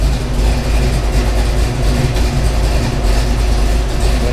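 A 1985 Ford Mustang GT Fox Body with a Windsor V8 runs in a loud, continuous, deep rumble close to the listener, with no voices.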